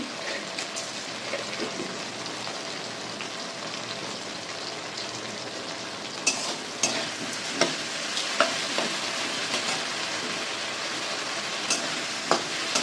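Ginger-cumin paste with a little sugar sautés in a pan with a continuous close sizzle and hiss, while a spatula taps and scrapes now and then, the knocks growing more frequent toward the end.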